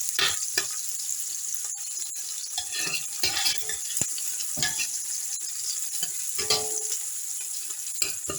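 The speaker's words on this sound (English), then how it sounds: "I'm going to allow it to saute." Spring onions sauté in a hot pan for a samosa filling, with a steady sizzle close by and a spoon stirring and scraping against the pan in irregular bursts.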